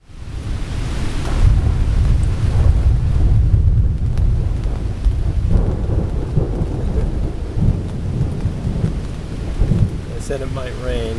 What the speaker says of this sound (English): Said it might rain, and in fact it's raining.